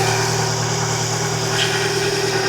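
A car engine idles steadily close by, a continuous low hum with a constant tonal drone and no speech over it.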